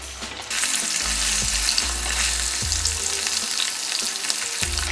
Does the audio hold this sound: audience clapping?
no